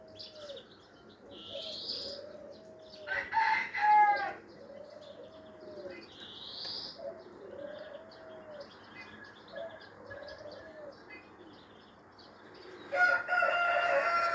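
A rooster crows several times alongside chickens clucking and chirping in a Ukrainian hillside village yard, with young poultry roaming among trees; the calls are near and repeated over a steady outdoor hum, with no talk.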